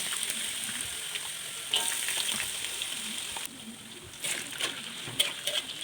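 Sliced jengkol beans fry in oil and are stirred now and then, making a moderate, steady crackling sizzle with brief louder bursts of spatter.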